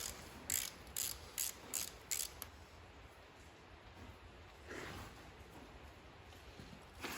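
A ratchet takes a spark plug out of an Allis-Chalmers B tractor engine: about six quick, close bursts of clicking, then a quieter pause and a softer scrape of movement.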